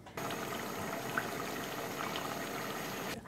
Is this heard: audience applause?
no